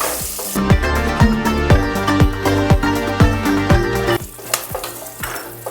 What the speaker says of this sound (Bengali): গোটা গরম মশলা, কাঠ সব ছিল, কটা গোলমরিচ, তেজপাতা দিয়ে আমি আগে এটাকে একটুখানি ভাজা ভাজা করে নিচ্ছি